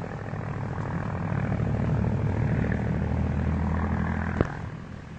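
A 1941-era propeller airplane drones steadily in flight, a loud continuous engine hum heard from nearby with no talk, and a brief sharp click near the end.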